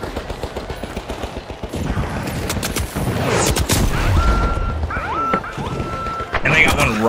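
Automated turret gunfire rattles in the video game THE FINALS, rapid bursts mixed with in-game explosions and effects, heard under excited overlapping player talk.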